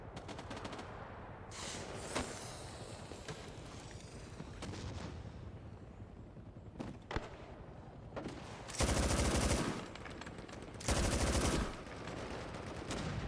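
Gunfire in the video game Hell Let Loose: Vietnam: quiet, scattered shots and short bursts, then two longer, louder runs of rapid fire near the end.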